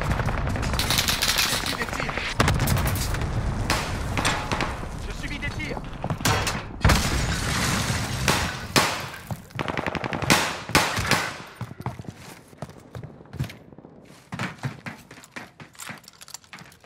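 Bursts of machine-gun fire and single gunshots in a Warzone match, loud and close, coming in repeated volleys with pauses, mixed with clattering thuds and a voice talking over the action.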